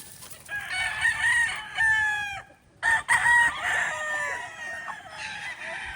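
White Kelso chickens crow and cluck nearby, with several drawn-out rooster calls and broken clucking over a faint outdoor background.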